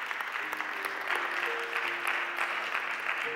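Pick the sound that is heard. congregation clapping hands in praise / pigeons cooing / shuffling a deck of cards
congregation clapping hands in praise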